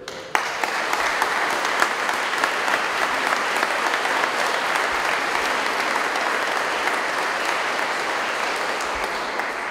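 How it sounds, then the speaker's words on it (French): A church congregation applauds the parish choirs during a bishop's visit, loud sustained clapping that swells in at the start and keeps a dense, steady wash throughout, with no speech over it. "Je pense qu'on peut les applaudir."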